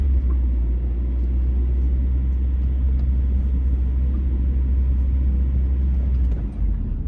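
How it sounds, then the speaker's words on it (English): A car drives along Berks Street in a city neighbourhood, heard from inside as a continuous, heavy low engine and road rumble that stays steady and close before briefly dipping near the end. "So we're driving up Berks Street"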